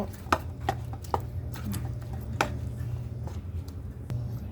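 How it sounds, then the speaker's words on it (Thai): Sweet potato sticks being stirred and tossed with dried vegetables in a kitchen, with a handful of sharp utensil clicks and scrapes over a steady low background hum. "เติมผักอบแห้งของเราลงไปนิดนึง แล้วก็คนคลุกเขา"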